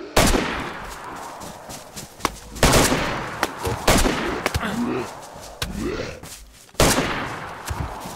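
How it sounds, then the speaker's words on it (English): Gunshots ring out in the survival game DayZ as sharp, loud cracks spread irregularly across the stretch, some single and some in quick clusters, with brief voices between them. "Oh, I'm getting shot."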